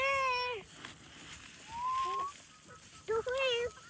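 Chickens cluck and call close by at feeding time on a farm, a few separate squawks and crows over quiet background, with a voice softly in the mix.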